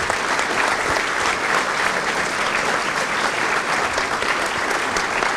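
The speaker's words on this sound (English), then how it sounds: "a big round of applause for everyone who has been involved this week." Sustained applause from a large conference audience at a closing session, a dense, steady wash of many hands clapping at even loudness throughout.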